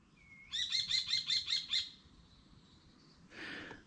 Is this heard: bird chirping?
yes